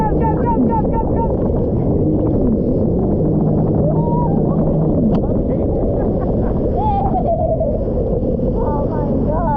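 A jet ski runs at the beach, its engine droning steadily under heavy wind buffeting the microphone, while people call out and talk loudly over the noise.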